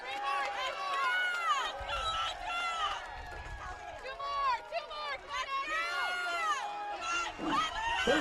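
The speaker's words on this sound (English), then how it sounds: "You can hear the crowd cheering for the hometown guy." Crowd at a strongman car deadlift competition cheering for a hometown lifter: a loud, dense wash of shouts and yells from many voices, sustained throughout with rising bursts, an announcer's voice talking over it.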